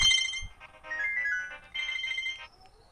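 An electronic phone ringtone plays a short melodic phrase, pauses briefly, then repeats, clear and nearby with no talking.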